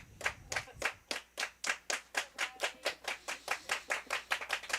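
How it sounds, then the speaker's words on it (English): Softball fans in the stands at a Calhoun County high school girls' evening game clap steadily, a rhythmic run of about twenty sharp claps, close and fairly loud with no talk over it. "These Lady Red Devils are really rallied up over here, clapping their hands, smiling, talking to each other, having a good time this evening, George."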